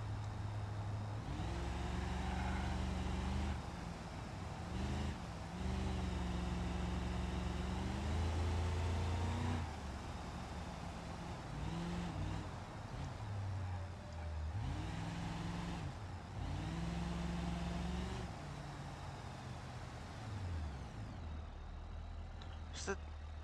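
A car lapping a racetrack in a driving video game, its engine note climbing and dropping in repeated rising sweeps as it accelerates and shifts, moderately loud with a steady low rumble underneath.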